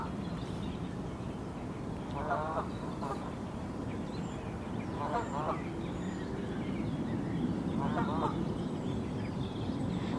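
Herons on Heron Island chatter at each other by a big carp pond, their harsh calls coming in three short bursts over a steady outdoor wash of wind and water.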